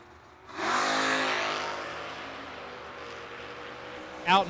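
A drag race car launches and roars away down the strip at a Thanksgiving footbrake event, a loud engine burst that fades steadily into the distance, with no talk over it.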